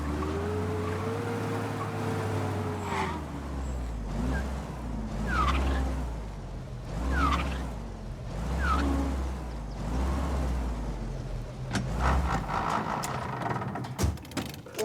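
Car engine in the video game Mafia: Definitive Edition, a steady low rumble with periodic swells and whooshing passes across about fifteen seconds, with no talk over it.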